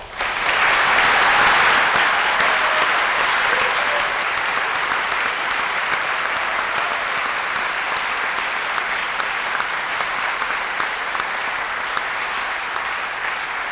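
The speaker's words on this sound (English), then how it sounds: "So let's start off the day by giving them a round of applause." Sustained audience applause at a university summer graduation ceremony, a dense, steady wash of many hands clapping that swells at the start and holds evenly for about fourteen seconds with no talk.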